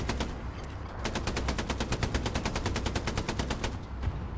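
Sustained machine gun fire in Hell Let Loose, a long rapid burst of evenly spaced shots after a brief opening stutter, loud and close against a rumbling battlefield background with no talk.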